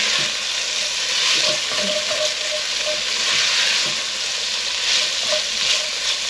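Chopped onions and red pepper sizzle steadily in a hot pan, a dense, continuous frying hiss with faint stirring scrapes and clinks, close and fairly loud throughout.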